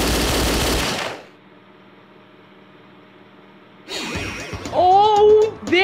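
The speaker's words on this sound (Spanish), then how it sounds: "¡La cámara de seguridad tiene una ametralladora!" A loud burst of rapid machine-gun fire from a security camera in the video game Danganronpa Another, then a quiet hum, then more shots with whooshing and whining synthetic effects.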